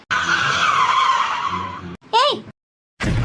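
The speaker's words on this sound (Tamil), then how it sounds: "ஏய் சரி, இந்த பக்கமா கார் வேகமா வருது பாரு." A car speeds past with a long, loud tire skid, followed by a brief rising and falling squeal, then a short pause before another burst of noise.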